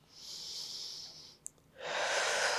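Breathing during a morning yoga and Pilates stretch, a steady airy breath close to the microphone, a short pause with a small click, then a stronger, louder rushing exhale, with no talk.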